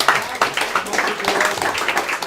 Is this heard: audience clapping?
yes